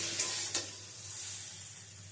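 Beaten egg sizzles in hot mustard oil in a frying pan while being stirred and pushed aside, a close, steady crackle with a couple of scraping strokes near the start.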